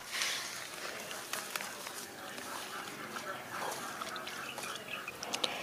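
Water is poured into a container packed with grass to make a liquid fertilizer, heard as soft splashing and dribbling close by with irregular small drips, while a voice talks over it.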